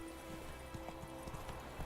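Roach, the horse in the video game Witcher 3, gallops with a steady, rapid clip-clop of hooves over a constant background hum, fairly close and moderately loud.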